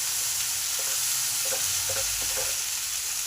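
Onion stalks fry with beans and potatoes in a pan, giving a steady close sizzle with light stirring scrapes and soft clatter, and no voices.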